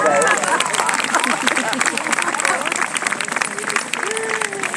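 An audience at a live poetry event claps loudly, dense applause with scattered cheers and crowd babble, easing slightly toward the end.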